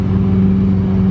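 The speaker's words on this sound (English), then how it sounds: "I think it's a exhaust too loud." McLaren car idling and revving with a loud exhaust, a deep steady droning rumble close by, heard alone without talk.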